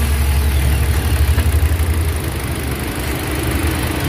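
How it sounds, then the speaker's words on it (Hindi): A new car's engine idles during a pre-delivery inspection, a steady low rumble with a brief pulsing throb midway, close and loud with no voices. "गाड़ी को अच्छे से स्टार्ट करके उसकी इंजन नॉइज सुनिए"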